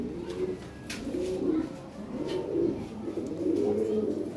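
A female blue checker Lahore shirazi pigeon coos in a steady series of soft, low, rolling calls, repeated about four times at close range with no talking.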